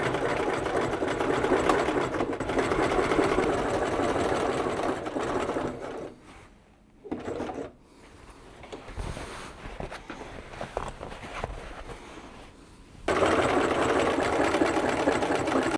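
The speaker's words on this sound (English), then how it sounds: "And now let's take it to the sewing machine." A sewing machine stitching denim runs in steady bursts of rapid stitching, stopping briefly and starting again, close and fairly loud.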